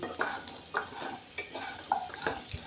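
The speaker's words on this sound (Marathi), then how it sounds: "ह्या शेंगा जास्त काही आपल्याला भाजायच्या नाहीत थोड्याशा भाजायच्या आहेत" Drumstick pods being stirred and lightly roasted in a pan over medium heat, with a few distinct scraping strokes at a steady rhythm over a soft sizzle, close and moderately loud, no talking.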